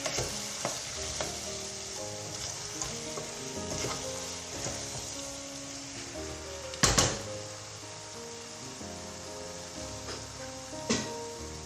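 Spoon stirs red pepper flakes through a sizzling pan for a zucchini dish: steady frying hiss under irregular scraping strokes, with one sharp utensil clatter midway and another near the end.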